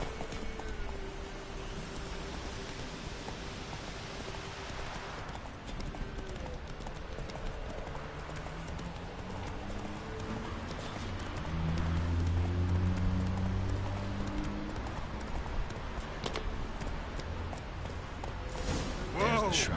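Geralt's horse Roach trots in The Witcher 3: Wild Hunt, a steady rhythmic clip-clop of hooves running throughout, with someone talking over it part of the time.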